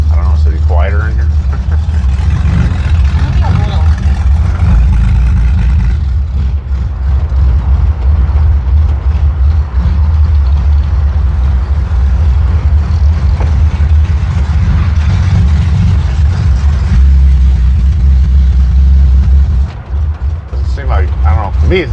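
A car engine, running again after fuel pump work, idles loudly and unevenly with a chugging low rumble for about twenty seconds, with occasional revs and no break in the sound.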